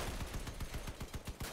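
A car-mounted gun in the vehicle combat game Crossout fires a rapid, evenly spaced burst of shots, each crack sharp and regular, with no talk over it.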